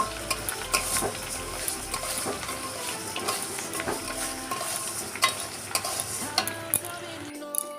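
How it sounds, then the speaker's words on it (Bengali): Lentils fry and are stirred in a pan, a steady low sizzle broken by frequent scraping and clinking strokes of the spoon against the metal, close and moderately quiet, with no talking. "দেখো ডালটা আমার ভাজা ভাজা হয়ে গেছে লাল লাল করে"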